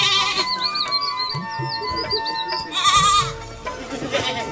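A goat in a village bleats in repeated wavering, high calls close by, with people talking in between.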